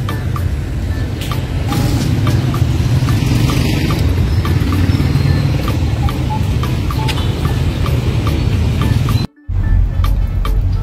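A large engine runs steadily and loudly with a constant rumbling drone, unbroken except for a brief dropout near the end.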